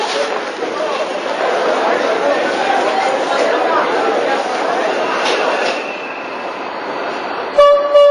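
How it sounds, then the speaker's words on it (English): Night train from Cairo to Aswan rumbling steadily along the tracks, a broad continuous roar of carriages heard from inside, with a faint tonal horn-like beep near the end. "I'm taking the night train from Cairo to Aswan."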